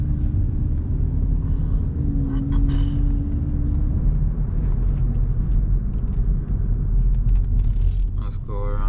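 Steady low road rumble and hum inside a 2018-2019 Hyundai Elantra while driving, fairly quiet and constant, with someone talking over it throughout.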